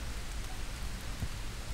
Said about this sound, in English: Now it's actually pouring with rain,